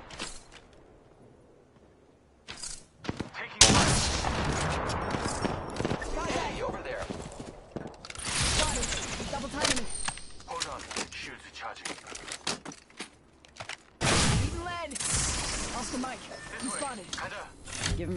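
Bursts of gunfire in a video game come in uneven clusters, loud and close, with short quiet gaps between them and a voice talking over parts of it.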